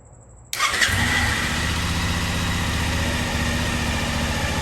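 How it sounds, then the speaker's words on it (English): After a moment of near silence, a motorcycle engine, powered by a jump starter, cranks and catches, then settles into a steady, loud idle. "Let's go ahead and try and start this motorcycle, see what happens."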